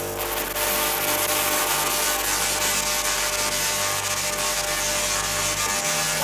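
High-voltage Tesla-style wireless power apparatus gives off a loud, continuous crackling buzz like lightning, steady and dense throughout with an underlying hum.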